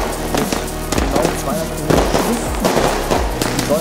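Lesli Thunder Kong firework bomb tubes firing a loud, rapid string of sharp bangs and crackling shots in quick irregular succession, close by and continuous throughout.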